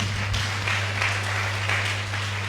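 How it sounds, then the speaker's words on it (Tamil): A church congregation at a Sunday service claps hands together overhead, a continuous dense patter of many hands over a steady low hum. "தலைக்கு மேல ஒரு கைத்தட்டு கொடுங்க பார்ப்போம்"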